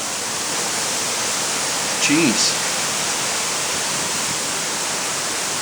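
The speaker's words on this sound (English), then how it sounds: "It's not even dark outside, but it's raining so hard." Heavy rain pours steadily outside in daylight, a dense, even hiss that fills the whole clip, with one brief exclamation from a man partway through.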